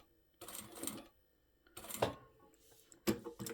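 Sewing machine stitching fabric for a heart-shaped coin pouch with a size 14 universal needle, heard as three short separate bursts, near and fairly quiet.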